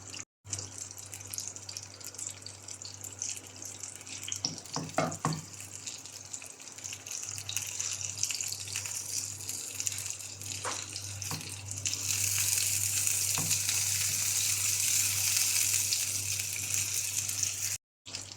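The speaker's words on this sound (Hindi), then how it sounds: "हम अलट पलट करते हुए चारों साइड से इसको 1 से 2 मिनट फिर से फ्राई कर लेंगे" Chicken malai seekh kebabs sizzle in a pan as they are turned over, a steady hiss that swells louder partway through, with a few light clinks from turning.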